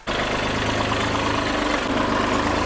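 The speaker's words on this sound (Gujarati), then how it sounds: "અત્યારે આપણે ટ્રેક્ટર ચાલુ થઈ ને" A tractor engine idles close by in a rain-soaked field, a steady low rumbling chug with a constant throb that holds evenly throughout.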